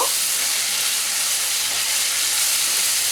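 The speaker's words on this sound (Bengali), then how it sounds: "এর মধ্যে আমি আলুটা দিয়ে দেব। আলুটা দিয়ে কষিয়ে নেব।" Potatoes fry with spices in a home-kitchen pan for Bengali dhokar dalna, giving a steady, close hiss and sizzle that holds even throughout with no voices.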